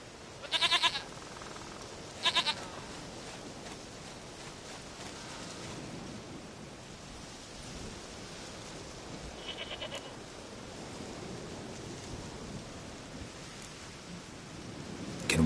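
Two short, sharp goat bleats from The Witcher 3 come close together near the start, then give way to a long stretch of steady rain-like ambient noise.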